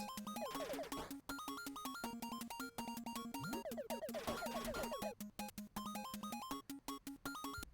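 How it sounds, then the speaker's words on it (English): Chiptune-style beeps and blips in quick succession, with rapid zaps and descending pew sounds like retro game shots and hits, busy and continuous. "after this you will hear some sound effects like shooting, enemy hits"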